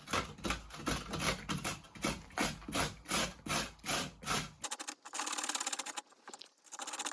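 Two carrots are grated on a grater, a steady series of rhythmic rasping strokes at an even pace, followed by a denser burst of scraping near the end, with no talking.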